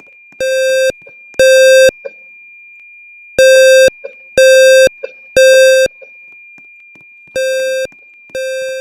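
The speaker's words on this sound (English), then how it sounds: "That one's a speaker strobe." A fire alarm speaker strobe sounds during an emergency test, giving loud, steady electronic tones in short bursts about half a second to a second long, some paired and some separated by pauses.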